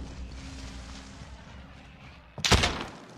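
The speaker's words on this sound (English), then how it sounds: "Someone else is shooting at him." Gunfire in Call of Duty: Warzone, one sharp loud burst near the end after a stretch of low ambient game rumble, a single close report with a short tail.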